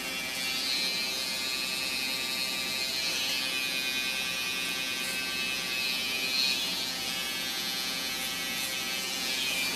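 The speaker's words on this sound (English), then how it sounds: "I'm just going to take my trimmer and come up by her ear" An electric hair trimmer buzzes steadily and close by for the whole stretch as it tidies hair around a woman's ear during a short, sleek haircut.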